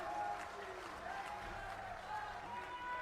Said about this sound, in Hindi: तालियों की गड़गड़ाहट से स्वागत